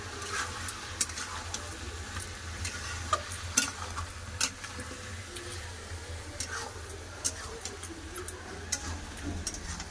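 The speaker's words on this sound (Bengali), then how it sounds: "এবার সব একসাথে ভালো করে কষে নেবো মশলার সাথে" Chicken frying with coriander and chili powder, a constant low sizzle under frequent light scrapes and taps of a spoon against the pan, close and fairly quiet, unbroken for the whole stretch with no talking.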